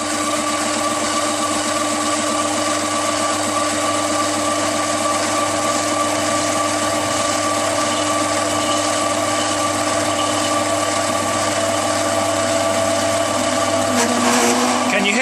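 A mini lathe runs loud and continuous while a parting tool cuts into lubricated metal, a steady motor whine with a grinding edge from the cut, and the tone shifts near the end.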